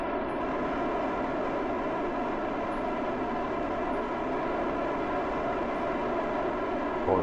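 A rocket engine in Kerbal Space Program roars at high throttle, a loud, constant broadband rush with no breaks.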